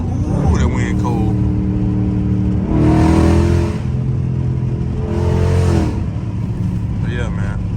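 A Scat Pack car engine revs up twice in loud, sustained bursts with a rising whine in cold, windy weather, with someone talking before and between the revs.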